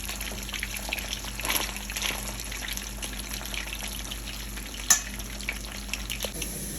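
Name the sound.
fish frying in a pan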